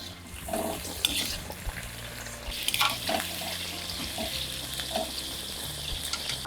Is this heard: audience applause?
no